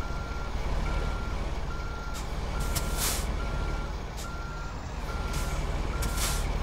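A Kenworth truck in American Truck Simulator backs up slowly with a heavily loaded trailer, a steady reversing beep repeating over a loud, constant engine drone, with brief hissing bursts of air brakes.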